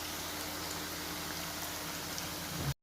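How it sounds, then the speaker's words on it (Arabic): Chebakia pastry, made with sesame, fries in hot oil, a dense, steady crackling sizzle up close that cuts out abruptly near the end, with no talking. "غادي نقلي الشباكيه ديالنا وغادي نحطها في ملي كتحمر"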